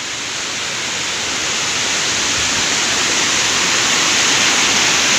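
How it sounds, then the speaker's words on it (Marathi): A scenic waterfall in Dapoli Chandranagar in the Konkan region roars as a loud, steady broadband rush of falling water, continuous and close throughout with no voices. "हेच पाणी खालती धबधब्यावरती जातं"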